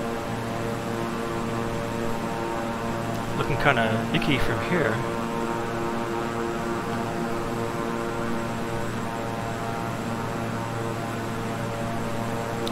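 The steady drone of a King Air 350i twin-engine turboprop in Microsoft Flight Simulator hums throughout, with someone speaking briefly over it.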